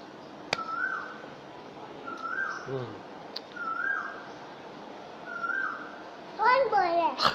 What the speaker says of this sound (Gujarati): કોયલ